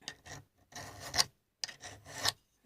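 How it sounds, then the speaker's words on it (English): Hand file rasping across the hard cast metal of a Footprint No. 5 plane during restoration, in two bursts of several short strokes each with brief pauses, close and fairly quiet. "This material's very hard to file."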